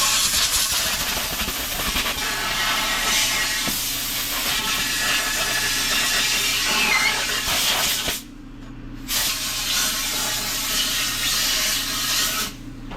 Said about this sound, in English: We'll hit it with compressed air from both sides, and that does a good job of getting the debris out of there